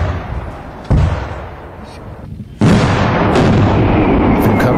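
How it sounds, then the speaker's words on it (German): A customs-office demonstration of an illegal firecracker flash-bang detonating outdoors at a safe distance: a sharp loud blast followed by a second, heavier bang with a long rumbling roar that carries on to the end. "Wie gefährlich diese Böller eigentlich sind"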